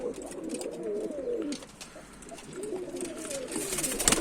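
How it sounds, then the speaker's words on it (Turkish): Several Mardin tumbler pigeons coo in low, throaty, rolling calls close by, overlapping and continuing steadily, with faint rustling in the background. "burada yaklaşık 50 tane güvercin var"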